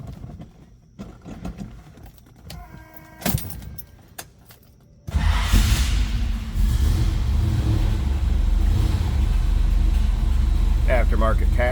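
A 1969 Chevrolet Camaro RS/SS V8 cranks and fires up about halfway through after quiet clicking and fumbling, then settles into a loud, steady, rumbling idle up close.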